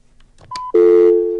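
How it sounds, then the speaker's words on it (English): A landline telephone tone sounds after a radio call-in caller hangs up, a brief beep and then a loud, steady dial tone that begins sharply and holds, with no voices. "the dial tone"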